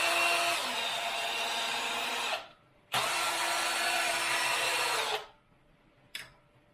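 A Hare & Forbes HM48 CNC-converted mill motors through its range of motion in two loud, steady stepper-driven runs of about two seconds each, separated by a short pause, then a brief final burst.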